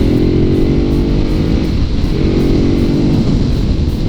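A Ducati Hyperstrada 939 motorcycle engine accelerating in Sport mode, a loud, steady, close-up twin-cylinder roar with a slight rise and dip in pitch over a few seconds, no voices over it.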